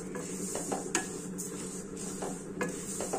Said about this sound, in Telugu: ఇట్లా బాగా వేయించుకోండి.